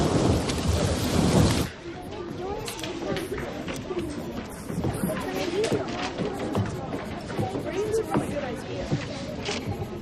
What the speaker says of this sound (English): Looks like it's gonna rain. It won't last long, but it will be heavy.